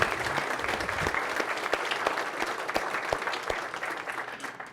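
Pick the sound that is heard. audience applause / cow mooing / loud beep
audience applause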